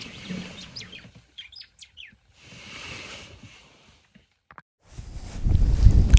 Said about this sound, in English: But yeah, I love the sparrow weavers.